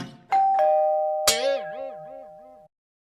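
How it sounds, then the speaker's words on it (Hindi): A doorbell rings clearly, a couple of soft taps and then a bright chime whose tone wavers and fades, heard alone. "रमन और दरवाजे की घंटी।"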